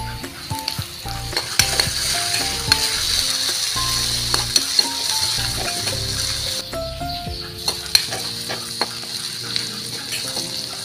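Curry frying and being stirred in a wok, loud continuous sizzling with repeated scraping and clinking of a spatula against the metal pan, close up and without talk.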